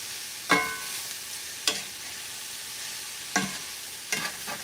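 Taco meat fries in a pan with a steady low sizzle while a utensil tosses and stirs it, giving four distinct scraping knocks against the pan, close and clear.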